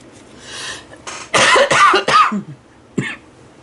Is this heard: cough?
yes